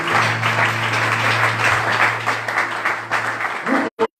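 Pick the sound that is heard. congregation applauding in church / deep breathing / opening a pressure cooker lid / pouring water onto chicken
congregation applauding in church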